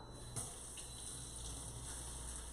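Tap water runs steadily into a kitchen sink as a measuring spoon is rinsed, a faint, even splashing stream with one brief clink near the start.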